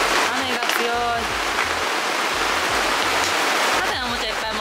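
Heavy rain pours steadily at a campsite with a loud, dense hiss that never lets up. Voices talk faintly beneath the downpour.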